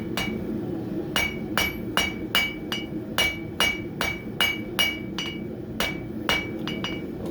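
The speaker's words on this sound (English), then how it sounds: "This hammer's a rounding hammer. It's round on one side and flat on the other." Rounding hammer ringing down on hot steel stock at a forge, about fifteen sharp metallic blows in a steady rhythm, each with a bright ring, over a constant low roar.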